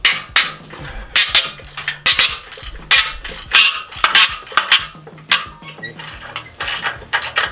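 Rapid ratchet clicking in repeated bursts, close and loud, as exhaust nuts are worked loose on a Harley-Davidson Heritage Softail motor, with metallic knocks between pulls.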